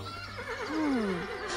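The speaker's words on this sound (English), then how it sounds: "A horse?" A cartoon horse gives a short, clear neigh, a quavering whinny that rises and then falls away over about a second, heard close and alone.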